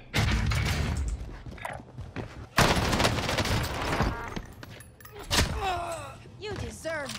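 Rapid fire from a PPSh submachine gun in the video game Warzone, loud dense bursts with short pauses, mixed with clanking game sounds and some talk.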